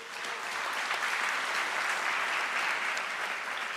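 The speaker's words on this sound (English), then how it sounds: "Please give a round of applause for that." Steady applause from a large graduation ceremony audience at the University of South Africa, a dense even wash of clapping that holds at full strength throughout with no voices standing out.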